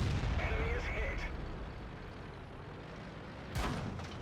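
A 105mm cannon on a Centurion 7/1 tank fires in World of Tanks. There is one sharp, loud blast late on, after a stretch of rumbling engine and battle noise.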